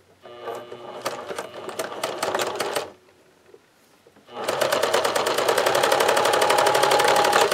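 A sewing machine stitches a medical device belt in two loud, close bursts of rapid mechanical clatter, the first about three seconds long, then a short quiet pause, then a longer, steadier run to the end.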